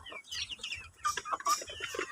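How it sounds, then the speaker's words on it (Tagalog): Chickens cluck in short, irregular bursts close by, with a few higher chirps mixed in. "mga alagang manok, chicken. Alagang chicken."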